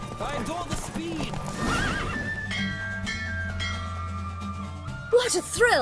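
Horses gallop in a race in the video game The Witcher 3, with rapid clip-clop hoofbeats, several loud neighs and whinnies, and a bell-like tone, all close and busy.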